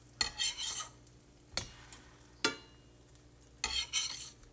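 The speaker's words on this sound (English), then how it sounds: "It's time to flip the pancakes." Pancakes sizzling in a hot pan during breakfast cooking, with several bursts of scraping and hissing as a spatula flips them, separated by quieter stretches; close and moderately loud, no talking.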